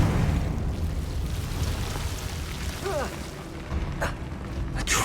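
Confringo fire spell from Hogwarts Legacy bursting amid constant rumbling game ambience, with a couple of sharp blasts near the end.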